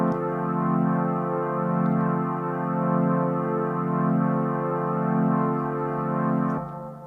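Sustained synth chords from a Roland MC-303 groovebox, run through a compressor, chorus, reverb and auto-pan, swelling and ebbing in a slow, steady pulse before cutting off near the end; no voices.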